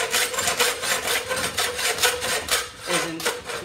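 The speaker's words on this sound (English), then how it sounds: "It's an old blade, so it's not cutting it fast." An old, dull saw blade cutting through a thin piece, with steady rhythmic rasping strokes, close and loud, repeating about four times a second.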